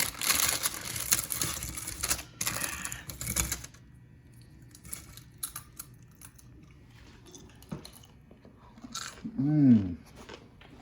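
Homemade strawberry crack candy is bitten and crunched in close, sharp bursts of crackling chews, followed by quieter chewing and a voice near the end.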